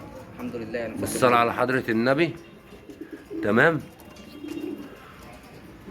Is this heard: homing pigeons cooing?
yes